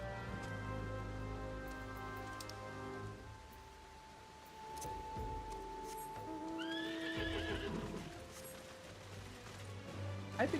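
A horse neighs with a rising, wavering whinny after a stretch of hooves clip-clopping, both fairly close and clear over light background ambience resembling rain, with no talking.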